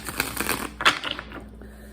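Tarot cards are shuffled by hand in quick riffling bursts of crisp papery clicks and a brief sharp snap, close to the mic, fading out near the end.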